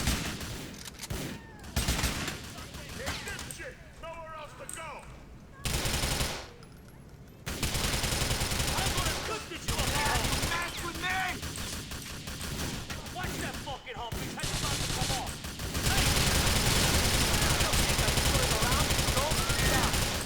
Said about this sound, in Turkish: Kafalardan vuralım tekte.